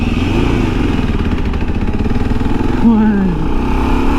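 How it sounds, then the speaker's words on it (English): A Kawasaki KLR650 dual-sport motorcycle engine drones at close range, loud and steady with a rising pitch near the end, and a voice talks over it. "So, I'm gonna do it on the KLR. All right, 0 to 60"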